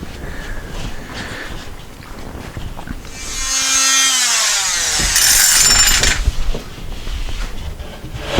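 A saw cutting a notch in wood for a pipe, a loud, close rasp that builds and holds for a few seconds and then stops, with lighter handling noise before and after.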